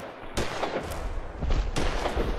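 Gunfire in Fallout 4, a burst of rapid, loud shots in several clustered volleys across the clip, with booming impacts underneath.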